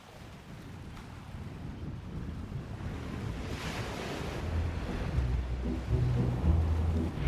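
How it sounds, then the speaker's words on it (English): Sea waves breaking on a beach a few meters from a tent on a Turkish shore, a broad rushing surge that builds and grows louder, mixed with gusty wind buffeting the microphone. "On the larger waves, it's coming 3, maybe 4 meters away from the tent"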